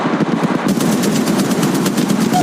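Automatic weapons fire in Apex Legends Mobile: loud, close, rapid bursts of shots that run on almost without a break, with no talk over them.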